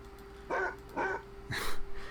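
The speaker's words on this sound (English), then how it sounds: "It's a dog someone gave me on Second Life for my birthday." Three short barks from a virtual basset hound pet named Fred in Second Life, evenly spaced about half a second apart, clear and moderately loud over a faint steady hum.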